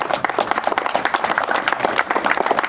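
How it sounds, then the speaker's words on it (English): An audience applauds Captain Michael Whitehill at a gathering for the buyboat Winnie Estelle at the Chesapeake Bay Maritime Museum, steady dense clapping from a crowd filling the whole stretch at fairly close range. "Michael should be applauded"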